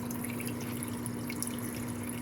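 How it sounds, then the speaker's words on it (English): Water pours steadily out of a 15-year-old Aquaclear 50 hang-on aquarium filter, a soft, even trickle and splash close by with a faint constant hum beneath it. "You hear absolutely nothing other than the water coming out of this"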